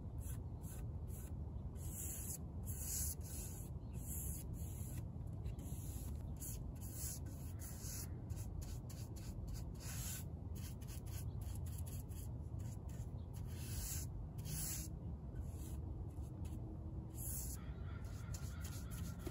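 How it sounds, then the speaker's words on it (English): A paintbrush spreads all-in-one mineral paint across a wooden shelf on a plant stand, making a steady, continuous soft rubbing and swishing close by, with rhythmic strokes throughout. "I'm just showing you what painting the second shelf looks like."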